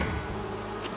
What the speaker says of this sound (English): Speaking of honey, do you hear that? Yeah, I think I hear bees.